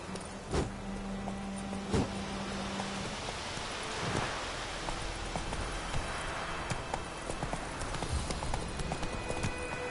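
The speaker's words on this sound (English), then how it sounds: "Run, Roach." Hooves of the horse Roach clip-clop at a gallop in The Witcher 3, a steady rhythmic beat under a rain-like ambient wash, with no talking.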